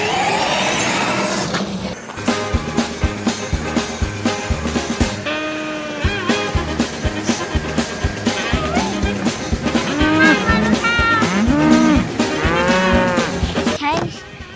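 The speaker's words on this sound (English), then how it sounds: "Farmer Yumi's cows got loose." Loose cattle on a farm moo repeatedly over a busy, loud backdrop of steady rhythmic clatter and music-like tones, the calls rising and falling near the end.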